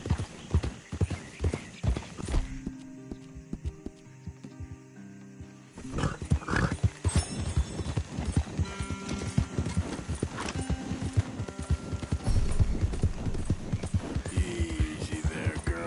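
Horse hooves clip-clop at a gallop in the open-world western game Red Dead Redemption 2, a steady rapid rhythm that runs throughout, loud and close, with game ambience and a few brief snorts or animal calls mixed in.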